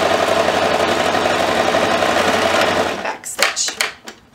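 Sewing machine back stitching along the edge of a child's apron, a steady close mechanical whir for about three seconds that stops abruptly, leaving faint handling clicks and rustles.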